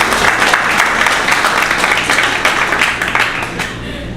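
An audience at a tax policy event applauds with loud, dense clapping that runs continuously for about four seconds, thinning slightly toward the end.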